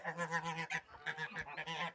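A domestic goose honks loudly and repeatedly up close, a rapid series of nasal calls with a brief pause midway.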